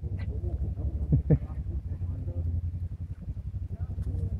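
A duck quacks a few times in short, close calls at a mountain cabin, mixed in with a low engine hum and people talking.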